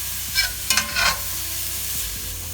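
Garlic and red pepper flakes sizzle in oil in a pan, a steady close hiss with a few brief bursts of stirring near the start.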